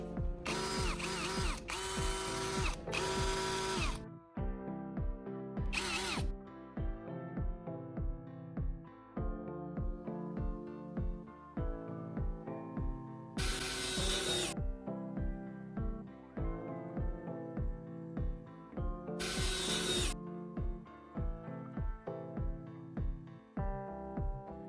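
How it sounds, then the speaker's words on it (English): Cordless drill running on a battery repaired with a terminal block, whirring in repeated short bursts and a few longer runs, with rhythmic ratcheting clicks and occasional loud high-speed spin-ups, close and clear. "To make sure it's stable, I'll test it in real conditions by putting the battery back in the drill and trying it out."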